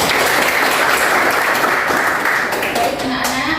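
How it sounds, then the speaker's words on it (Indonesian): Children in a classroom applaud together in loud, dense clapping that fills the space, then thins out slightly toward the end; a teacher's voice carries over it. "Terima kasih, berikan aplaus."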